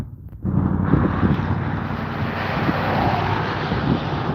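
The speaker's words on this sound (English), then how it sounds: "So here's one craft that just came in." An airplane arrives at the Slaton Air Show as it winds down, its engine a steady, fairly loud broadband drone that starts after a short quiet moment and holds throughout, with wind rumble underneath.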